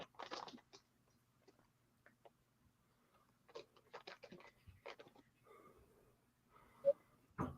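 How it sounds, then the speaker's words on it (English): Quiet chewing and crunching noises come in scattered bursts, close and soft, with small clicks and mouth sounds in between. "What you munching on, Sandy?"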